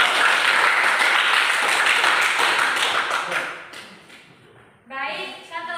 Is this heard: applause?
yes